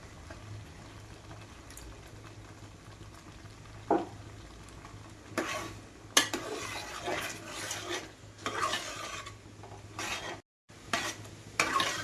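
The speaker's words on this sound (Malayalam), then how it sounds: "നമുക്ക് രണ്ടാം പാൽ പാലെടുത്തിട്ടൊന്ന് നന്നായിട്ട് മിക്സ് ചെയ്യാം" Rice payasam with jaggery and coconut milk is stirred in a pot: intermittent scraping and sloshing strokes of a spoon, quiet at first and then more frequent, with a faint steady background hiss and no talking.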